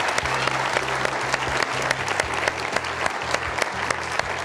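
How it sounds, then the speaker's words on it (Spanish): A television studio audience applauding a guest on a health program, a dense, even wash of clapping that runs steadily throughout, with a low hum beneath it. "Un aplauso para don Orlando que está hoy día con nosotros"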